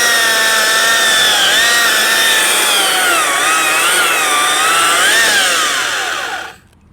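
A Stihl MSA 300 C-O battery chainsaw cuts through wood with a loud, close, high whine whose pitch dips and rises as the blade bites, running steadily for several seconds before cutting off abruptly at the end.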